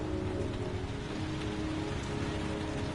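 Rain falls steadily in the PS4 game Bayou / Baby Rain, a constant moderate hiss of drops on surfaces with a low tonal hum underneath and no talking.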